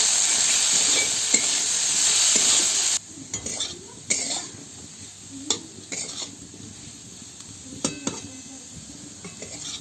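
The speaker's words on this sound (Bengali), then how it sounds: "আলুগুলো ভেজে নেব ভালোভাবে।" Salted, turmeric-dusted potatoes frying in a kadai for aloo chingri: a loud, dense sizzle for the first few seconds, then quieter frying broken by repeated sharp scrapes and clinks of the stirring spatula.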